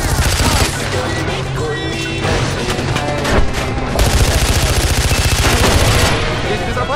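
Machine gun fire from the Far Cry 4 game, loud rapid bursts that rattle on and off across the whole span, with booms and shouted voices mixed in among the shots.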